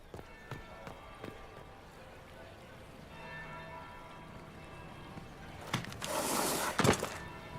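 A bell rings in Dragon Age Inquisition over soft footsteps and ambient hall noise. It sounds faint and distant at first, then swells toward the end with a burst of brighter noise.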